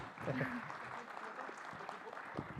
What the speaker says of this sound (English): You can clap a bit louder for Vedant.